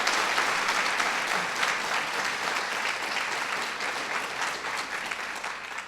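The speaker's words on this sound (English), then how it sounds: "Please give her a big round of applause." A steady round of audience applause at a White House event for young Southeast Asian leaders, filling the room evenly for about six seconds with no voices over it.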